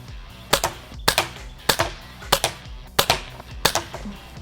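Umarex Browning Buck Mark airgun pistol firing pellets, seven sharp cracks spaced roughly every half to two-thirds of a second, each with a short ringing tail, loud and close with no talking.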